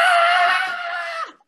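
A group lets out a single sustained, high, raspy screech of celebration lasting just over a second before cutting off abruptly.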